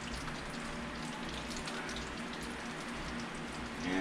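Fried tacos cooking in a pan give off a steady, even sizzle and crackle of hot oil, close and continuous, with a slight swell at the very end.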